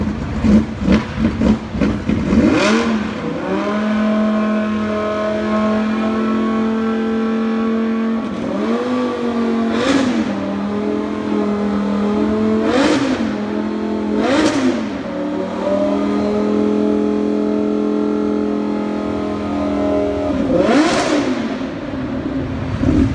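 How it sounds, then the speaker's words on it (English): Mad Mike Whiddett's Lamborghini Huracan "NIMBUL" starting at a Big Boys Toys unveiling, then a loud, near exhaust blaring through several sharp revs that rise and fall over a steady idle. "are we asking the crowd who wants to see Mad Mike start the Lamborghini NIMBUL?"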